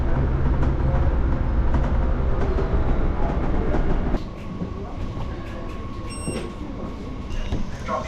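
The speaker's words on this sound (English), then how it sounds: "We're on the train. Off we go." Interior of a moving passenger train on a Queensland rail line, a steady loud rumble with faint clicks, which drops to a quieter hum about halfway through as the carriage slows or changes track.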